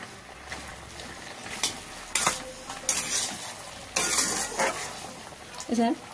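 A spoon scrapes and stirs thick sugar syrup for ash gourd murabba in a wok over lowered heat, with intermittent loud scraping strokes over a faint bubbling hiss.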